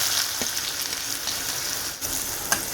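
Chopped onion fries in a pan with crushed garlic and curry leaves for a Maharashtrian val bean dish, a steady close hiss with a few soft stirring taps and no voices.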